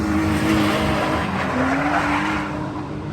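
Drift cars at a 2024 Feofaniya drift event roar steadily nearby while tires squeal in long drawn-out screeches, loud and continuous.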